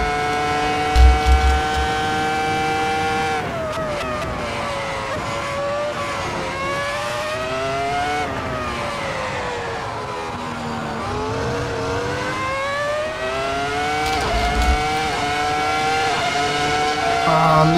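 A Ferrari F2004 V10 Formula One car in Assetto Corsa at Silverstone screams loudly while running in another car's slipstream. The engine note is continuous and near, its pitch dropping through downshifts and climbing again as it accelerates.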